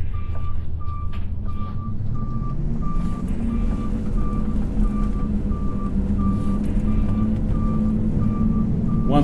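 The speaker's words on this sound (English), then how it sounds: "Once we've reversed in, we'll park correctly." A vehicle reversing in an underground mine gives a steady run of short, evenly spaced reversing beeps above a loud, rumbling engine drone that shifts pitch as it moves, with no talk.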